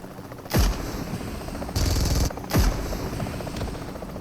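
A helicopter in PUBG Mobile thunders with a steady rotor roar, broken by three loud, sharp gunshot bursts, up close and with no talk over it.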